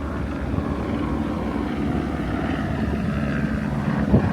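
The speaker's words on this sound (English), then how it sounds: "I wonder if the helicopter is hitting on me right now." A helicopter high overhead above a citrus park produces a steady low rumbling drone with faint rotor thumping, continuous and fairly loud.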